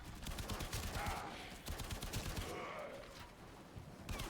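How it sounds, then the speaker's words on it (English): A Braton rifle in Warframe fires in rapid automatic bursts, a dense crackle of shots with a brief pause midway, moderately loud and heard alone. "See, it's kind of our like basic machine gun, but is quite effective."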